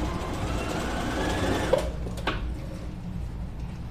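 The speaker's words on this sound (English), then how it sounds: "Let's sew a little bit." Sewing machine running steadily while stitching denim jeans, a continuous close mechanical whir with a brief click partway through, no talk.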